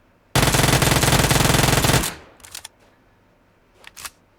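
A rapid burst of automatic gunfire in PUBG rattles loudly for almost two seconds, then cuts off, followed by a few short, fainter shots in the distance.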